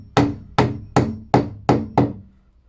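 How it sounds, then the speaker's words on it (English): Six sharp hammer blows strike timber studs in a garage stud wall, evenly spaced about half a second apart, each a loud woody thwack with a short ringing decay, no voices. "When you're hitting them across, hit that timber and that timber at the same time."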